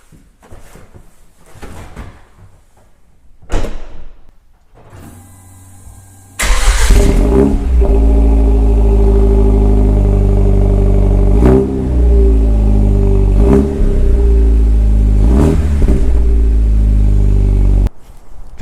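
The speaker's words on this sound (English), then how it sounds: "we're going to give the Genesis a nice cold start to begin the vlog" A Genesis car gets a cold start: a few clicks and shuffles, then the engine cranks and catches into a loud, steady idle close by, blipped several times with short revs before cutting off.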